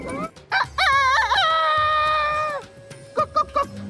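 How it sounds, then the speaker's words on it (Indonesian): A rooster crows in a scene from an Indian film with a long, loud, wavering call held for about two seconds, followed by a few short, clipped clucks and low background rumble. "Si ayam berbunyi kuku kuku kuku kukuruyuk"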